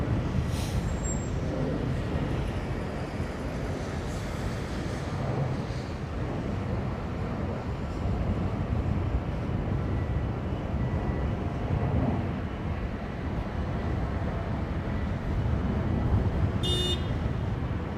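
A C-5 Galaxy military transport aircraft with 28 wheels moves along the runway at London Heathrow, giving a steady, broad rumble that holds at one level throughout, heard from a distance with no talking.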